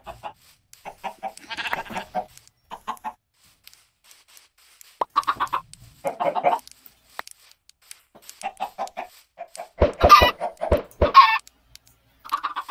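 Chickens in a Minecraft swamp village cluck in short bursts scattered across the stretch, with a few louder, sharper squawks near the end. No one talks.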